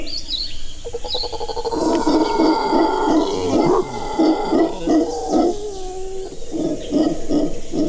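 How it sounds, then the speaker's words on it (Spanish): Howler monkeys roaring in a tropical forest, a loud, rhythmic series of deep pulsing roars and grunts repeating in bursts, with birds calling faintly behind. "Sus rugidos retumban en plena selva, a través de los árboles,"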